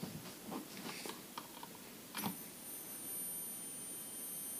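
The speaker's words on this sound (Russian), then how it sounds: "Пищит и не включается," Faulty Panasonic CRT television that will not switch on, giving off a thin high-pitched electronic whine that starts about halfway through and holds steady, with faint ticks and clicks beforehand.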